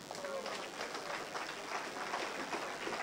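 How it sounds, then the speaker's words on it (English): An audience at a talk by Professor Bayyinah Bello in Jamaica breaks into applause, a steady wash of many hands clapping that sounds somewhat distant and moderately quiet, continuing throughout without a break. "Applaud yourself."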